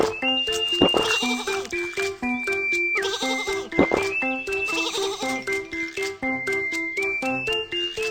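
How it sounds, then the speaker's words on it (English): Cartoon sheep bleats from the Baby Bus train game, repeated over a bright, bouncy looping melody, several short bleats recurring throughout. "Some sheep are on the train track."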